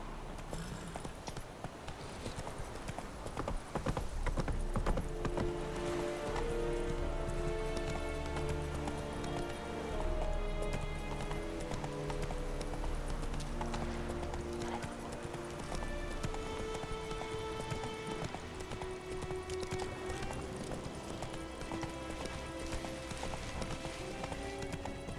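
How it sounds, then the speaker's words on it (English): Horse hooves clip-clop steadily in The Witcher 3 video game, a brisk, continuous rhythm of close hoofbeats layered with game music. "Whoa there, Roach"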